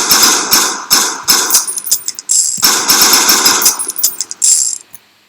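Rapid bursts of video game gunfire from a shooter module preview, loud sharp repeated shots in clusters with short gaps, fading out near the end.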